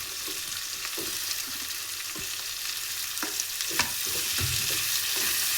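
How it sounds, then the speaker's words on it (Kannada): Onion and tomato fry in a pan, a continuous sizzle with scattered stirring scrapes and spoon knocks, close and steady throughout without any talking. "ಟೊಮೊಟೊನ ಸ್ವಲ್ಪ ಚೆನ್ನಾಗಿ ಮೆತ್ತಗಾಗೋವರೆಗೂ ಫ್ರೈ ಮಾಡ್ಕೊಳ್ಳಿ"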